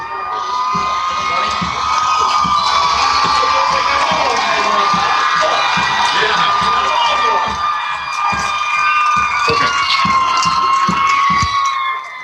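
Fans on the Walkersville sideline at a high school football game against Middletown cheer and shout after a point-after attempt, a loud continuous roar of voices and whoops with high-pitched yells and a steady tonal wail threaded through it.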